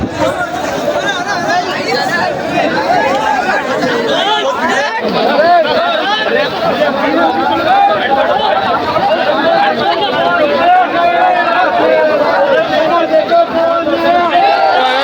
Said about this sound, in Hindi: भीड़ हो रही है, बहुत भीड़।